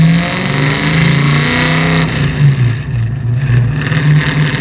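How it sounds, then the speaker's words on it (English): A 550 hp 1963 Ford Falcon race car roars through loud SpinTech mufflers, its engine revving up and down nearby with a heavy, throbbing low rumble that wavers in pitch. "Those SpinTech mufflers are good. They're loud, but they sound like an uncorked car."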